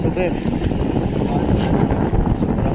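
Strong wind roars and buffets the microphone continuously over the Pacific Ocean amid big waves, a dense low rumble with gusts.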